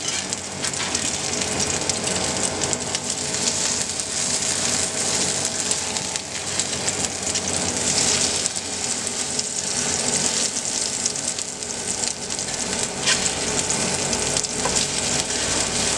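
Potato latkes frying in hot oil, a steady dense sizzle and crackle running close and continuous without pause, with no talking over it.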